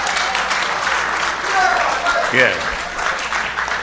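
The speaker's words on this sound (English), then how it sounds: "Give him a good round of applause" A live audience at a St. Joseph crime talks community event applauds a longtime police commissioner, steady clapping filling the room while a voice speaks briefly over it.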